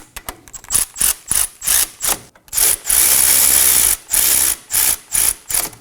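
Brake caliper bolts being snugged on a 2016-2020 Kia Sorento during a front brake caliper replacement, loud close ratcheting in repeated bursts with one longer continuous spin in the middle.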